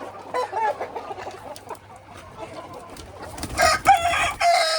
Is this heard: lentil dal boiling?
no